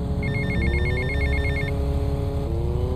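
A telephone rings in GTA Vice City, a rapid electronic trill repeating through the first half, loud over a steady low game-engine and traffic hum with no speech.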